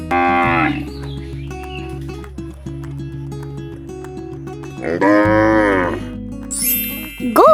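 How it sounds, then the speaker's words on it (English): A cow lets out two long, deep, loud moos, one at the start and another near the end, over a light backing tune with no talking. "Cow."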